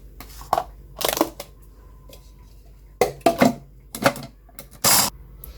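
Sugar and cocoa are ground for almond baklava, heard as several short, loud crunching grinder bursts separated by quiet pauses, with no talking.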